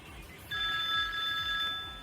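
A telephone bell rings in a steady electronic trill that starts about half a second in and continues to the end, over low background rumble, with no voices.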